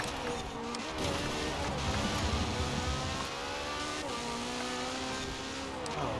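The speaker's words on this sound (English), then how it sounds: "Another Chiron's overtake me." A Bugatti Chiron sports car overtaking in the racing video game Forza Horizon 4, a steady loud engine drone with rising and falling revs and faint tyre noise, no talk.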